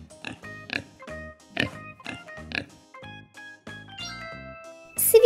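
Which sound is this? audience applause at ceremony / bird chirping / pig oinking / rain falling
pig oinking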